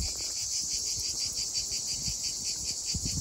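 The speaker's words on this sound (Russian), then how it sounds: "Вот цикады разливаются, поют." Cicadas buzz in a steady, loud high-pitched drone with a faint pulsing texture near the sea in Koktebel, backed by a soft low rumble of distant surf.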